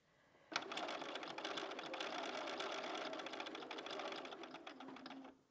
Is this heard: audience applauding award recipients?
no